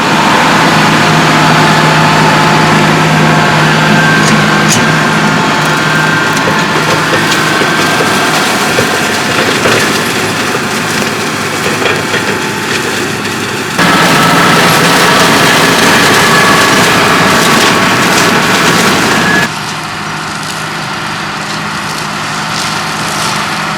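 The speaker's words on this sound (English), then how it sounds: "We'll just finish mowing this off" A tractor engine runs steadily while a topper mows a field, a loud continuous drone with mechanical clatter that shifts in level partway through and drops slightly near the end.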